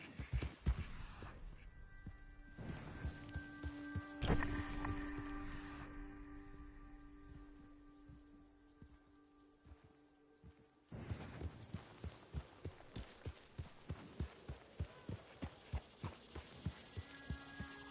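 Horse hooves clip-clopping in Red Dead Redemption 2, a steady run of evenly spaced thuds over a low hum that pauses midway, then returns at a quicker trotting pace.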